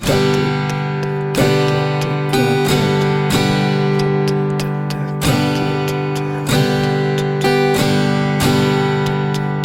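An acoustic guitar is strummed with repeated, evenly spaced downstrokes, each chord ringing briefly before the next sharp strike, played up close.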